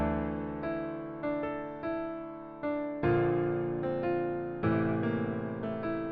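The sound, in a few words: dark bass melody beat made in FL Studio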